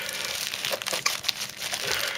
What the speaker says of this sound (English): A load of empty plastic bags of packaging.